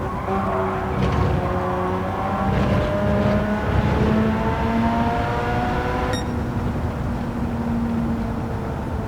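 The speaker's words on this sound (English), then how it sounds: "Quite a lovely car by the looks and by the sound, especially. You know, the Wankel engine, pretty cool." Wankel rotary-engined race car in Gran Turismo 7, a steady high-pitched engine drone holding near and loud throughout, with rising gear-by-gear revs and a brief shift partway through.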